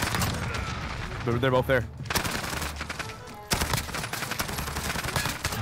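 Gunfire in the video game Modern Warfare: rapid bursts of sharp shots crackle in clusters with brief pauses, loud and close, while a player talks over them.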